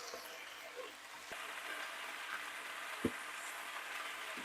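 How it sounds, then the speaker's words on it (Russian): Tomatoes fry in a hot pan over a high flame, giving a steady, even sizzle and hiss throughout, with a couple of brief soft knocks and no talking. "Дадим возможность прожариться помидором."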